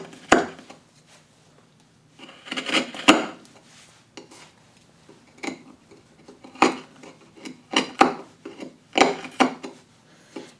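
A sharp chisel pares end grain on the shoulder of a Queen Anne side table leg in a series of short, crisp scraping and shaving strokes, close and isolated, with quiet pauses between bursts.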